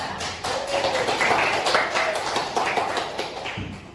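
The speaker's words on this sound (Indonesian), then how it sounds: "Beri tepuk tangan untuk Mbak Gita ya." Students in a classroom clap together for a classmate, a brisk, fairly close round of hand claps lasting a few seconds before tapering off.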